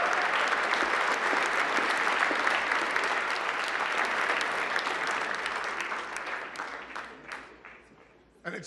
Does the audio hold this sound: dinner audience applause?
yes